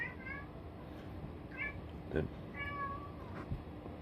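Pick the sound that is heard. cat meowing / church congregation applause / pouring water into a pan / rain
cat meowing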